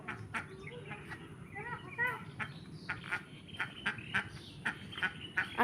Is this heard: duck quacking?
yes